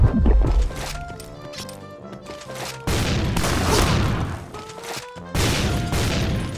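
Bursts of shotgun fire from the Point Blank video game come as loud blasts, one at the start and two heavy bursts later, over game music and noise.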